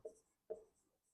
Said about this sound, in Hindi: तो मैं यहां पर लिख लेती हूं